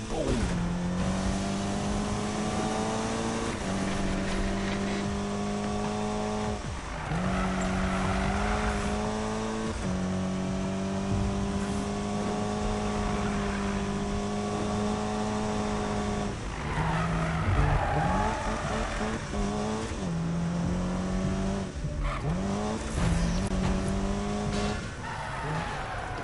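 A Nissan racing in Need for Speed, its engine droning and revving in steady tones while tires squeal through repeated drifts, loud and close for the whole stretch without speech.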